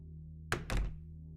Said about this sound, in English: Loud and panic-inducing thumps grow closer and closer at an almost unimaginable speed.